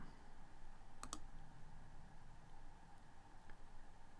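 Mouse clicks on a computer, a quick close double click standing out over a steady background hum, then a fainter single click later, no talking.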